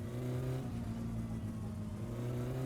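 A car engine drives along in the game My Summer Car, a steady mid-pitched drone that stays loud and close throughout with slight rises in revs and no voices.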